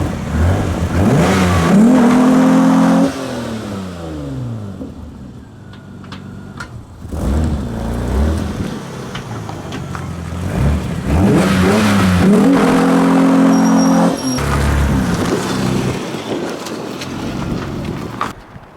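A 1999 Mitsubishi car revs hard during burnouts, its engine climbing to loud, strained peaks and dropping back in two long surges, recorded close by with wind buffeting.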